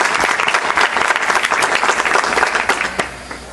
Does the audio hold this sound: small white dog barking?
no